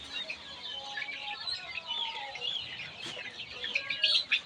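Chickens on a small poultry farm beside hot tin-roofed sheds cluck and chatter steadily, a dense flock of overlapping calls with occasional sharper chirps, fairly close and continuous throughout.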